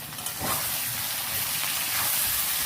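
Sliced eggplant and three split green chillies sizzling in a hot pan in a village kitchen while being stirred, a loud continuous frying hiss with brief scraping swells as the vegetables are turned.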